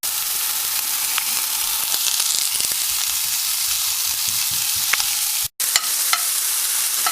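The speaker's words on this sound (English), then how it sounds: "starting to make sizzling, sizzling, sizzling, baby" Steady, loud sizzling of home fries with red bell pepper frying in a pan, a continuous crackling hiss with occasional stirring scrapes and a brief break.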